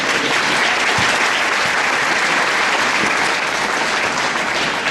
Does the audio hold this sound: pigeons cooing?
no